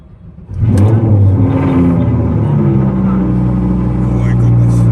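Loud sports car engine cranking and catching, then revving into a heavy, steady roar that stays up close and fills the space.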